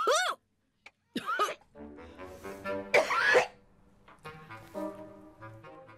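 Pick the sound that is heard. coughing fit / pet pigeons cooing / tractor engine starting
coughing fit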